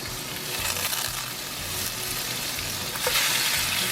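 Pork chops sear in a hot pan with oil and butter, giving a loud, continuous frying hiss and crackle throughout, with no speech.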